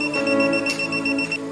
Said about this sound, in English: When a nearby voltage is sensed, a beep will sound.